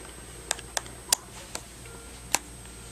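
Bottom screws of an Asus Eee PC 1008HA netbook being unscrewed make five sharp, faint, close clicks spaced irregularly over a quiet background.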